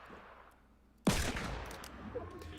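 A single loud gunshot from a revolver in a video game, a sudden sharp crack with a reverberant tail that fades into game ambience.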